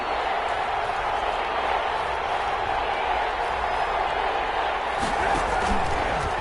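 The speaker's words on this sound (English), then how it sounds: "the crowd getting into it as we come up on a big 3rd down" A stadium crowd roars in an American football video game ahead of a big third down, a loud, steady wash of cheering that swells slightly near the end, with commentary voices over it.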